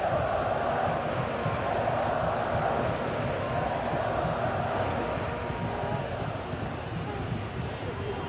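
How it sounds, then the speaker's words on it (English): Stadium crowd noise in an eFootball PES 2021 match between Spain and Argentina, a continuous full-capacity roar and cheer running underneath commentator speech throughout. "a capacity crowd here"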